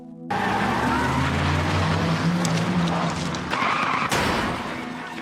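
A car in a film tries to flee soldiers who are shooting at it. Its engine roars loud and close with a broad skidding rush that swells and then fades over a few seconds.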